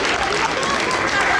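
Dense crowd applause at a cosplay contest, loud and continuous through a brief moment, with chatter blended into the clapping.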